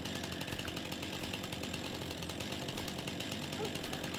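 Chainsaw cutting deadwood in Farming Simulator 25, a steady buzzing engine drone that holds at an even level for the whole stretch, with a faint voice underneath.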